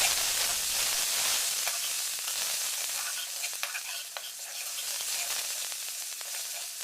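Ingredients with turmeric frying in a pan, a steady bright sizzle with stirring scrapes and clicks throughout, close and fairly loud.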